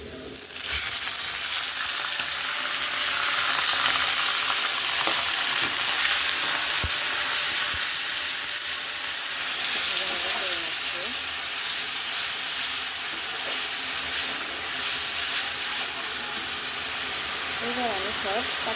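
Chana dal fries in animal fat in a pan, giving a steady, loud, hissing sizzle throughout with occasional small pops and stirring sounds.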